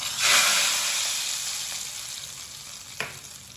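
Hot oil tempering hits masoor dal (red lentils) with a sudden loud sizzle that gradually settles into a steady frying hiss, with a small splutter near the end.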